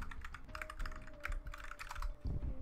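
Quick, close clattering keystrokes on a computer keyboard rattle steadily for a few seconds in bursts of rapid presses with brief pauses, heard alone with no talking.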